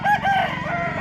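Roosters crow loudly and close by at the Nallapadu chicken market in the early morning, a single drawn-out cock-a-doodle-doo filling the moment.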